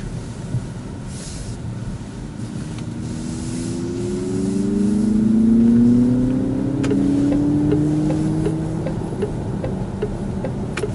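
An artificial sports car engine sound is piped into the cabin of a car on a test drive, its tone rising steadily as it accelerates, over a constant road and cabin rumble with no talk.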